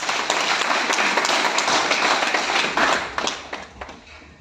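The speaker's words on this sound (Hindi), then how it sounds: "जोरदार ताली से" Loud applause from a crowd gathered for a speech honouring a superintendent, dense clapping that holds strong for about three seconds and then thins out and fades.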